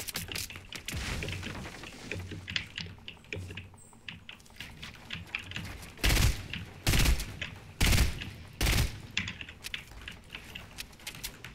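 Bursts of gunfire in Fortnite during a match with sniper shots, several loud sharp reports in quick succession amid rapid clicking of keys and game noise.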